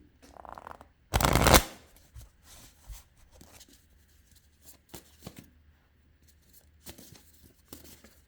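Tarot cards being shuffled and drawn for a two-choice reading: one loud riffling burst near the start, then a run of softer slides, taps and flicks as cards are handled, close and quiet, with no talking.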